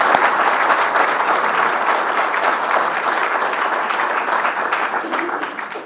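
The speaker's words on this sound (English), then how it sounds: "So then we clap after each one." Audience applause during a state trooper service recognition, steady dense clapping from a crowd lasting throughout, fairly loud and close with no talk over it.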